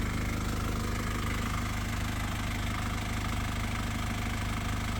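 A postal delivery vehicle's engine runs at a steady idle while warming up, a constant low droning rumble heard close by with no variation in pace.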